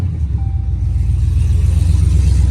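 A 2013 Dodge Ram single cab pickup with a swapped supercharged Hellcat engine driving, a deep steady engine rumble and low drone that builds slightly in loudness, close by with no talk.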